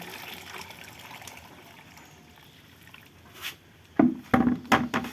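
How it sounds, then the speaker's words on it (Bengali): Water is poured into goat feed that is being mixed. A faint trickle is followed by several louder splashing gushes close by toward the end. "পরিমাণ মতো একটু পানি দিয়ে দিবেন।"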